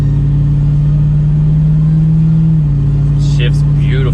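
Dodge Dakota R/T truck engine running loud and close, with a steady low drone that drops in pitch as the transmission shifts partway through, followed by a brief clatter near the end.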